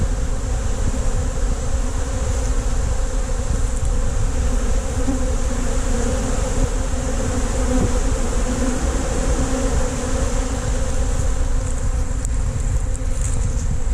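Honeybees swarm over equipment to clean up leftover honey after extraction, a dense, continuous and loud buzzing that holds steady throughout with no speech.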